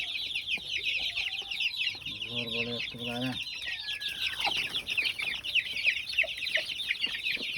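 Chickens cluck in a poultry pen, near and lively, with repeated clucks over a dense background of chirping chicks; someone speaks briefly.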